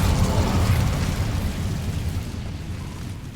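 An Incendio fire spell cast in the Hogwarts Legacy video game erupts as a loud, close, rumbling burst of flame that roars steadily with heavy low-end weight, then slowly tapers off over a few seconds, with no voices heard.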